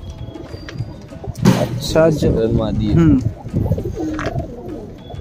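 Desi high flyer pigeons coo close by in short throaty bursts while people talk over them, with light background noise.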